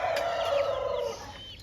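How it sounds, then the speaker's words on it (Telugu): A rooster, an 11-month-old bird about 3 kg, gives one loud, close crow that trails off, with a few clucks around it. "అన్న ఈ పుంజు గురించి చెప్పండి"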